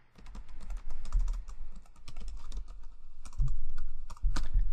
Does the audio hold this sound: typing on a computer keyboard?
yes